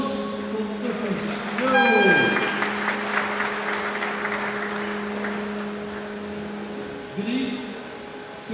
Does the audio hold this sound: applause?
yes